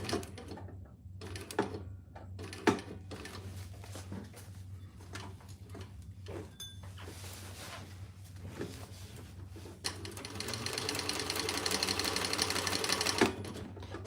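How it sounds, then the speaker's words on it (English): A home sewing machine basting all the way around a fabric divided basket, with short stop-start stitching bursts and clicks, then a longer continuous run of stitching toward the end. "All right, let's sew this and baste it all the way around."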